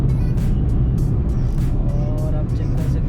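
A car cruising at moderate speed on the Eastern Express Highway, its engine and road noise forming a loud steady rumble with passing-traffic whooshes and brief clicks throughout.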